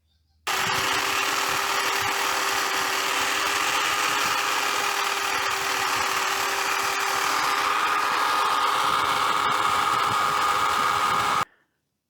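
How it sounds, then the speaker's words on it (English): An old drill locked in a vise spins a wire wheel to buff vintage blacksmith tools, starting abruptly into a loud, steady buzzing whir with scratchy brushing that runs about eleven seconds before cutting off. "Any old drill, and you can pick up these wire wheels fairly cheap."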